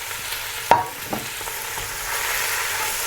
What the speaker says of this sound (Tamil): அடுத்து நாங்கள் வெட்டி வச்ச உள்ளியை போடுவோம்.